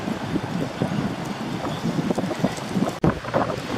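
Strong wind gusts rumbling and buffeting the microphone outdoors at a vintage car run, rising and falling unevenly, with a sharp click near the end.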